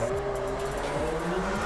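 A car drifts around corners, its engine droning steadily at high revs with a tonal whine and repeated sweeping shifts in pitch, loud and continuous with no voices over it.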